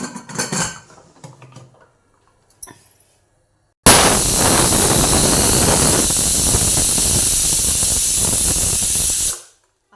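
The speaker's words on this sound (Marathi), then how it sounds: "कुकरच्या शिट्ट्या झाल्यात" A loud, steady hiss of steam from a pressure cooker whistle blasts for about six seconds while cooking drumstick pods, following a few quiet kitchen clinks.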